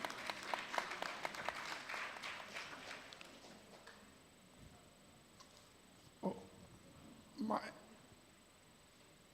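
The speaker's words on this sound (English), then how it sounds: "let's clap for her some more" Conference audience at a law week event in Lagos claps for a speaker, with quick scattered claps early that thin out into faint room noise and a couple of isolated knocks.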